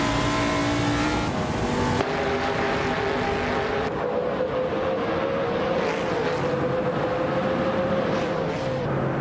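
A 1971 Dodge Charger's racing engine roars in a driving video game, a loud continuous drone whose pitch climbs and then drops sharply around a gear change before settling into a steady high whine.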